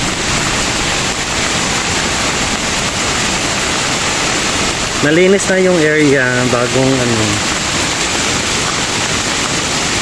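Heavy rain roars in a dense, constant wash, and a voice speaks briefly over the downpour.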